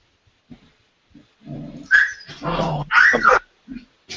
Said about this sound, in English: Clem, are you torturing your dogs again?